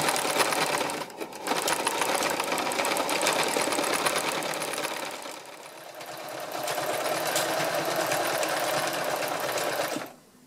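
Sewing machine stitching fabric, a loud close continuous mechanical whir that runs steadily, dips briefly about halfway, resumes, then stops abruptly near the end.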